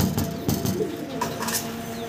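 A pair of Lahori pigeons coo softly in a steady, low murmur, with a few brief bursts of noise breaking in among the calls.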